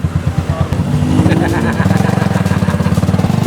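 Motorized tricycle engine running in Manila traffic, a steady close putter of rapid pulses with a rising rev partway through, loud and continuous.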